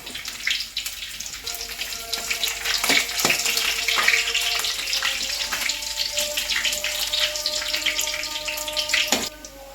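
Garlic cloves frying in hot oil in a pan for a rock fish curry, a steady crackling sizzle with a few sharper pops and clinks of a utensil against the pan, close and continuous with no talk.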